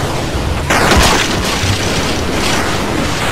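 Bombs exploding in the 2D multiplayer shooter Gang Garrison 2, a loud sudden boom followed by crackling bursts and a noisy tail.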